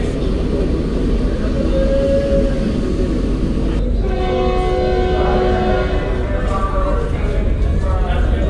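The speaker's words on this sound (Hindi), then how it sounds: "फर्स्ट विसल हो गई है, हमारी train Jafar express 40 down depart करने लगी है मुल्तान कैंटोनमेंट रेलवे स्टेशन से।" Jaffar Express pulling out of Multan Cantonment railway station, platform 5, with a steady train horn or whistle tone sounding over continuous rumble and station noise, joined by a second layered whistle partway through while people talk nearby.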